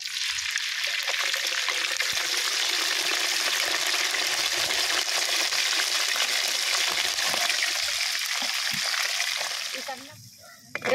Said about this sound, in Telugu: ఇప్పుడు నూనె గరం అయింది ఇప్పుడు చికెన్ వేస్తున్నాను ఇందులో